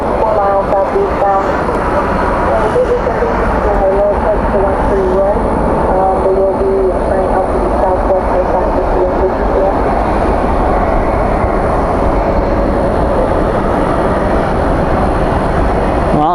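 A jet airliner lands at night at Dallas Fort Worth with spoilers up and thrust reversers deployed, producing a loud, steady, broadband roar that holds unbroken for the whole stretch.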